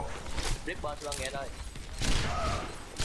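Gunfire in the first-person shooter Overwatch crackles in quick bursts beneath excited voices talking and laughing.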